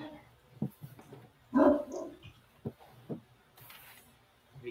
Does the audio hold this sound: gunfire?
no